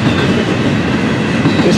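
A freight train rolls loudly on rails close by, a dense steady rumble with faint clicking of wheels on track joints throughout the short stretch.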